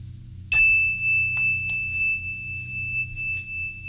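A single clear strike of a small bell, its bright tone ringing on and slowly fading over a low background hum.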